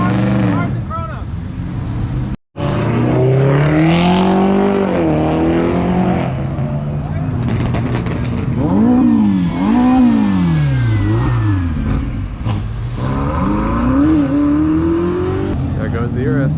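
A Lamborghini Urus drives past and accelerates, its engine note climbing and falling through several revving surges at close range, with a brief dropout early on and voices heard over the engine.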